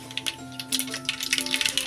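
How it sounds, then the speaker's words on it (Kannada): Mustard seeds pop and crackle in hot oil during a home tempering, a rapid scatter of sharp little snaps over a steady background hum. "ಸಾಸಿವೆ ಹಾಕ್ಕೊತೇನೆ ರೀ ಫಸ್ಟಾಗಿ."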